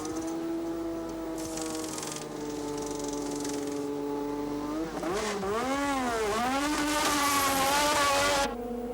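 Formula One race cars from the 1986 Grand Prix season scream past on track, several high-pitched engines overlapping with rising and falling Doppler sweeps as they pass nearby, loud and continuous.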